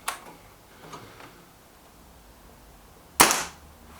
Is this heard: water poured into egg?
no